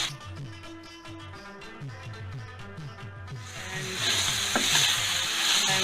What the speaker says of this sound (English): We need to saute this garlic for a while.